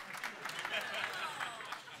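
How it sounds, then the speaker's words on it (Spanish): A church congregation claps in a fairly dense burst while voices call out over it, the applause moderately loud and continuous. "¿A quién aplauden?"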